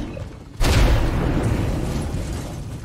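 A vehicle blows up in State of Decay 2 with one sudden loud boom, then a long rumbling roar that slowly fades, with no voices.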